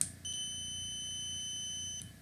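A single high-pitched electronic buzzer tone from an Arduino-driven active buzzer sounds steadily for about two seconds, clear and close, then cuts off.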